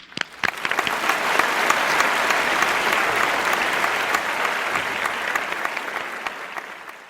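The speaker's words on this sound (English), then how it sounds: "Let's give him another round of applause" An audience at a climate change talk applauds a speaker, starting with a few separate claps that swell into sustained, even applause from a sizable crowd before easing slightly toward the end.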